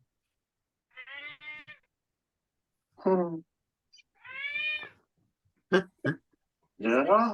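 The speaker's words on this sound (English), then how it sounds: "And that is my cat looking for some attention." A pet cat meows for attention nearby in a quiet room. Several separate drawn-out, wavering meows and short chirps come with pauses between them, and a person says a word briefly.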